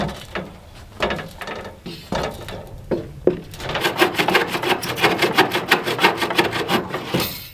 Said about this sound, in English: I'm sawing through the plywood right here.